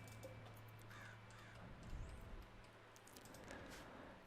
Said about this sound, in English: And there's a bunch of ravens out there.